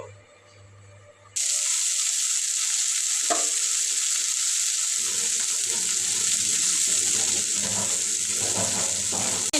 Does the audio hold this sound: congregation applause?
no